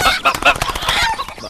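Chickens for slaughter that have escaped, clucking and squawking in a quick, busy burst close by amid some commotion.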